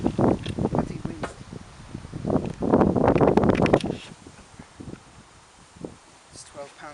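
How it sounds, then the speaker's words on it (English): Wind gusts outdoors beside a carp fishing lake, rushing in loud bursts that swell and fade against the microphone, then easing to a quieter breeze. "Bloody wind."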